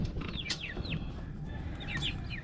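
Chickens being fed cluck and chirp in a few short bursts, close by, over a steady low farmyard rumble.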